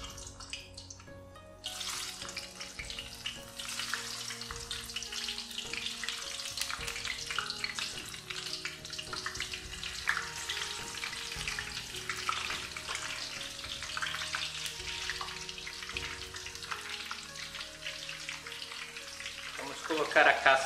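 Scarlet eggplant (jiló) frying in a pan, a steady dense sizzle and crackle running loud and continuous throughout with no voices.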